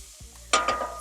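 Vegetables sizzle in a pan as they are stirred, two brief scraping bursts over a quiet, steady hiss.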